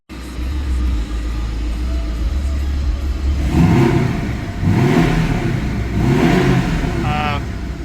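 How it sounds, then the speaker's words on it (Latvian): The flat-four turbocharged 2.0-litre engine of a chip-tuned 2016 Porsche 718 Cayman revs up repeatedly in strong throaty bursts over a steady idle rumble, with a voice speaking briefly near the end. "Uzgāzējot jau dzirdam to, ka šis ir opozīta tipa motors, mazliet atgādina Subaru skaņu, izplūde."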